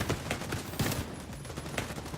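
Sniper and rifle fire in The Division 2 crack out in a rapid run of loud shots over steady battle noise, with several sharp bursts close together.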